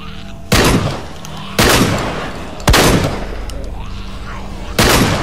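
Four loud, sharp gunshots in the video game The Walking Dead: Survival Instinct ring out at irregular intervals, each with a booming echo that trails off, over a low background hum.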